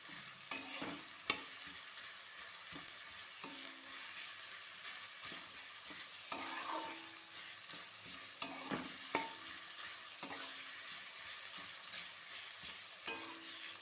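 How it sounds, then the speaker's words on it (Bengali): Onions fry in a pan for a spiced pea dish, a quiet steady sizzle with scattered scraping clicks as a spatula stirs them, nearby and fairly soft with no talk. "একটু লাল করে পেঁয়াজটা ভেজে নেব।"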